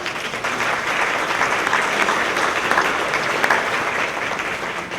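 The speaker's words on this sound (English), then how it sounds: "I agree, that definitely deserves an applause." Steady, dense applause from a ceremony audience at an inventors hall of fame event, honoring the 10 millionth US patent, a LiDAR system; sustained and even throughout with no talking over it.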